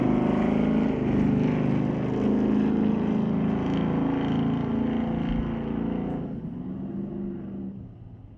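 Chevrolet Chevelle and GMC Jimmy junior drag racing at Mission Raceway Park, a loud sustained engine roar that holds steady, then eases off and fades away.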